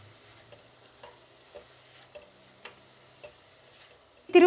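A spoon stirs coconut filling for bobbatlu in a pan on a lit stove, giving regular soft scraping knocks about every half second, close and fairly quiet, ending in a louder clatter.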